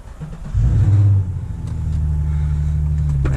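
A Nissan 350Z engine cranks and catches, flaring briefly to a loud rev before dropping into a steady, rumbling idle as it warms up, close to the microphone.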